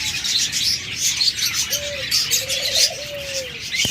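Caged budgerigars and cockatiels chirp and twitter in a busy high chorus, with a soft dove-like coo rising in the middle, all fairly close.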